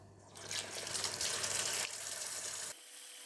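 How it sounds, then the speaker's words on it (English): Clams (lala) being washed under running water from a tap, a steady loud gush into a basin for a few seconds before it cuts off. "To wash the lala, I'm just going to wash it with water."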